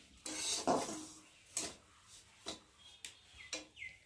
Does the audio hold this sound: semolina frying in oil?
yes